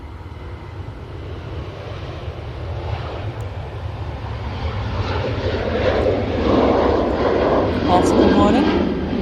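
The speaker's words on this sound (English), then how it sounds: "We've got the TUI 737 now departing." A TUI Boeing 737 jet departs Manchester Airport, its engine roar swelling steadily louder over several seconds, with wind buffeting the microphone and people talking over it.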